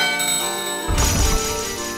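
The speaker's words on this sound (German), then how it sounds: "Beide Glocken läuten im Einklang." Two bells ringing together in the Final Fantasy 9 video game, a loud bright sustained metallic tone that swells with a low rumble midway, no voices present.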